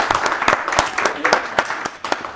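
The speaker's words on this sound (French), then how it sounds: "On peut l'applaudir." A small audience at an event claps in quick, distinct, close-sounding hand claps, a loose patter that keeps going for a couple of seconds.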